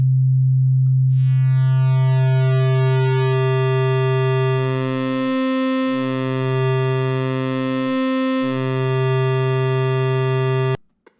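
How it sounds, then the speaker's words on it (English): Pure sine tone in the Mela synth run through a rectifier effect, starting as a clean steady low tone, then sprouting a dense ladder of bright upper harmonics and a pulsing, throbbing lower tone, loud and alone, cutting off abruptly. "Rectifier is a pretty cool utility and also can be used as an interesting sound effect"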